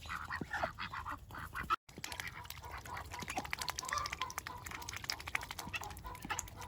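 Ducks quack and chatter close by in a busy, overlapping flock, with splashing and pecking at beet pieces in water mixed in and a brief gap partway through.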